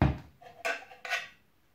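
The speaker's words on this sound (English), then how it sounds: "Wee cheap camping cutlery set out of the Pound Shop." Cheap camping cutlery set from a discount shop being handled, giving a few short metallic clinks and rattles close up, with no talk.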